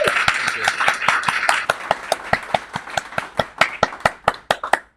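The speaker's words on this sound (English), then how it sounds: "Give that guy a round of applause for me," An audience claps for a panel moderator at an entrepreneurial summit, a sparse, close group of claps that thins into a few distinct rhythmic hand claps, with some talking underneath.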